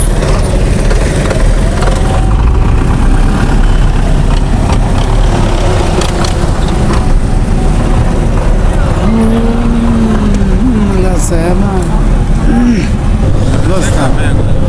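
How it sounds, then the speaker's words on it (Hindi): Loud, steady rumble of a tractor engine running nearby in a village, with traffic noise and a few brief hisses layered over the drone throughout. "ये ट्रैक्टर वाला देखो, ट्रैक्टर वाला बहुत अच्छा लगता है।"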